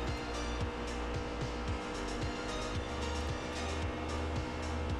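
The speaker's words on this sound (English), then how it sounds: "I can listen to the tires complain throughout the entire corner." Race car engine in NASCAR Heat 3 drones loud and steady through a corner, its pitch sweeping repeatedly as tires squeal under the load.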